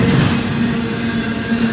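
A string of freight train cars rolls past close by, a loud, steady rumble with faint rhythmic clatter and no voices.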